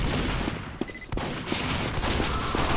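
Sentry turret in Team Fortress 2 firing rapid bursts of gunfire, loud and dense, with a brief break in the middle before the shooting resumes.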